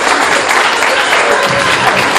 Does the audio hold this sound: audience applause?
yes